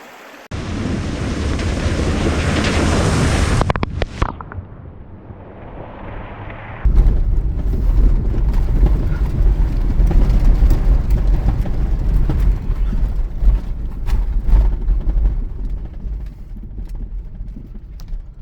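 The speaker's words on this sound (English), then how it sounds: "we made it over the river crossing" A Subaru Forester pushes through a shallow, roughly foot-deep off-road river crossing, with loud rushing water splashing and surging against the car alongside engine rumble and wind buffeting, continuous and close.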